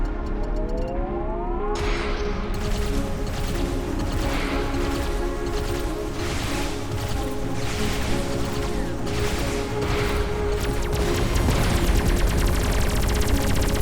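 In Everspace 2, a gauss cannon fires in rapid repeated bursts amid dense, loud game combat noise and engine hum, continuous throughout with no voices.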